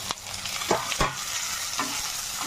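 Tomato fries in a hot pan with a dense, even sizzle close by, punctuated by a few distinct stirring scrapes and taps, no voices.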